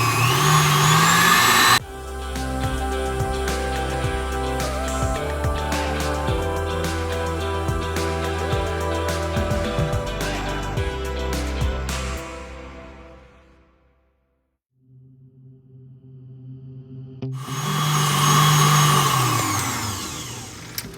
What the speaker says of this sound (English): We're gonna mix all these 3 ingredients on the mixing machine